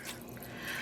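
Water pours into a dye pan during immersion dyeing of superwash and non-superwash yarns, a soft continuous splashing trickle heard up close, with no talk over it.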